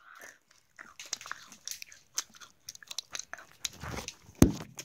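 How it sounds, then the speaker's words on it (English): Someone eating a Kit Kat chocolate bar, heard as close, sporadic crisp bites and crunchy chewing, with one sharper loud crack near the end and no talking. "And that's not how you eat a Kit Kat."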